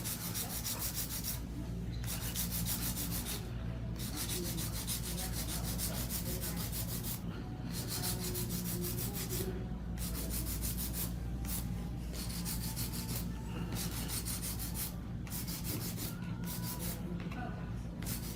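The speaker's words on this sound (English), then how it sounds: "Now we just go and do some hand filing to even up the surface area." A hand file works steadily across the surface of acrylic coffin nails, close up: a continuous gritty rasp of rapid back-and-forth strokes with brief pauses between passes, and no talking.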